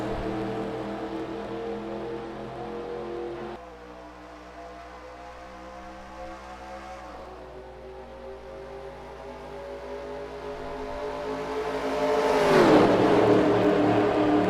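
A pack of race cars in a racing video game accelerates at the green flag, a dense, loud layered engine drone with shifting pitches. The engines swell louder near the end, and no one talks.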